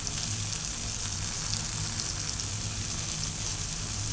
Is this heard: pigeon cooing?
no